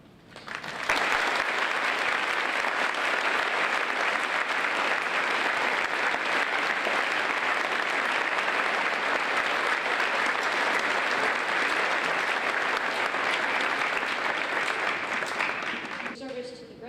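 Sustained applause from an audience at a high school JROTC Veterans Day ceremony, a dense, steady clapping that swells in within the first second and holds evenly for about fifteen seconds before tapering off.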